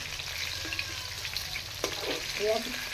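Masala fish pieces frying in a pan over low heat give a steady close sizzle with hiss throughout, plus a few soft scrapes and small bumps as they are handled.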